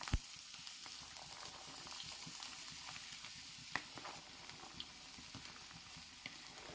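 Chopped onion, long beans and ginger frying in coconut oil after mustard seeds have popped, a quiet steady sizzle with scattered clicks and utensil taps, heard alone.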